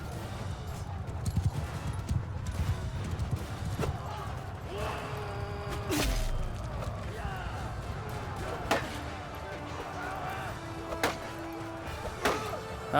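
Horses galloping in the Mount & Blade II Bannerlord video game, with a busy battle din of hoofbeats, clashes and thuds running steadily under game noise, with occasional sharper impacts.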